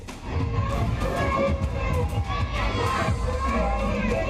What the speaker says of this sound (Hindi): सरस्वती माता के जयकारे लग रहे हैं।